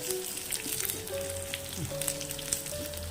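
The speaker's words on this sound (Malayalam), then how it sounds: "ഉള്ളി നന്നായിട്ട് മൂത്തുടങ്ങി" Onions frying in hot oil for a South Indian tempering, a steady close sizzle and crackle with faint pops throughout, no talking.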